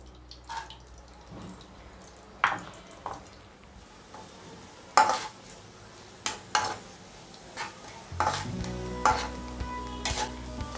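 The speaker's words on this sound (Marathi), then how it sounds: "आता आपण मनुके फ्राय करून घेऊयात." Raisins fry in a pan for dink laddoos with a soft sizzle, punctuated by irregular scraping and clattering stirs and a few louder knocks, close by, with no voices.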